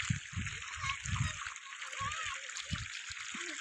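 Irrigation water rushes and splashes steadily across a jowar field, with a continuous wash of flow beneath people talking nearby.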